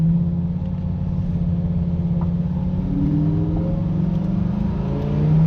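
A race car engine idles and revs gently during warm-up at a driving experience track in Bridgewater, New Jersey, a steady low rumble with slowly rising pitch, close and continuous with no talk.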